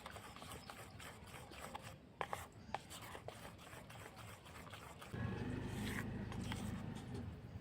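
Cocoa powder is worked into an atta cake batter for a steamed vapa pitha cake: continuous rhythmic scraping and rubbing in a bowl with a couple of sharper clicks, the texture turning thicker and heavier toward the end.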